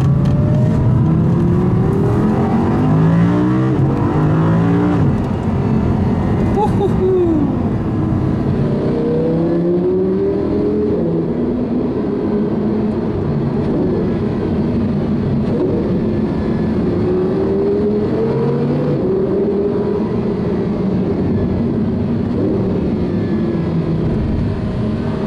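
A 2015 Porsche 918 Spyder hybrid supercar engine drives steadily with rising and falling pitch sweeps as the gearbox shifts and downshifts through tight corners, loud and close, with continuous road and wind roar and no talking.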